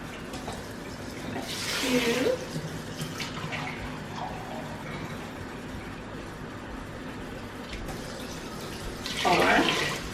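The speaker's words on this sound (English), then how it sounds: "So I'm just going to add my water" Tap water runs steadily into a cooking pot for a home-made broth, rising in two louder gushing bursts while a person speaks briefly nearby.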